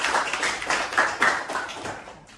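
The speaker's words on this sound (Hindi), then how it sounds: "एक बार इनके लिए ताली बजा दीजिए।" A small group claps for a student in a training class, a brief patter of hand claps with a few louder peaks, fairly close and without speech over it.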